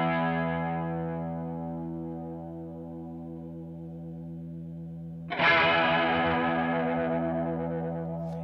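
Chords through a Boss CE-5 chorus pedal as its rate is turned up, the shimmering warble speeding over a long sustain before a fresh strum rings out bright and close, no voices.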